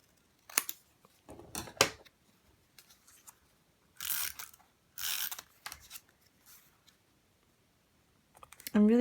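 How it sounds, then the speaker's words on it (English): Scissors trim photos for a junk journal in a traveler's notebook, making several short, crisp snips and clicks close by, separated by near silence. "Let me cut this off a bit here."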